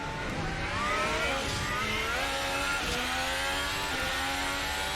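A pack of F1 race cars in the F1 2020 game at the Istanbul Turkish GP roar off the start, several high-revving engines overlapping and climbing through gear changes, loud and close throughout.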